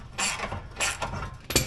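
Bolt being tightened on a Jeep Wrangler JK skid plate, with three short ratcheting bursts from a hand tool, close and clear, no voices.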